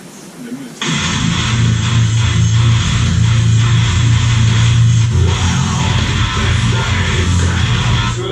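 Dense, loud heavy metal plays continuously, with distorted guitars and pounding low drums filling the whole stretch after a brief quiet start.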